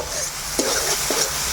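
Spices with chili powder, turmeric and salt fry in a pan for ghugni, giving a steady close sizzle with two brief scraping stirs of a spoon.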